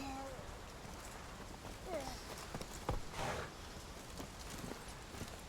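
Roach the horse's hooves clip-clop steadily across the ground in The Witcher 3, a soft repeating walk under faint background voices.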